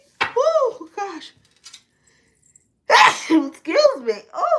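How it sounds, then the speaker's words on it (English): A sharp, close sneeze bursts out after a voice, followed by a brief pause and more speech. "that sneeze came from way in the back"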